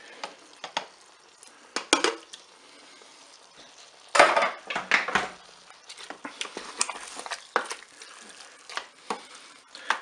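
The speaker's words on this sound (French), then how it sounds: "Je vais ajouter la boîte de tomates pelées." Canned peeled tomatoes tipped into the pot of a Cookeo with lentils, bursts of clattering metal, scraping and wet splashing, loud near the middle, followed by more intermittent clinks and knocks.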